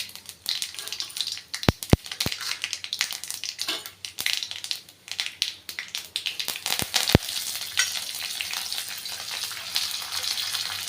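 Hot oil sizzles and crackles steadily as spices temper for banana flower fry, with a few sharp pops and spattering bursts close up.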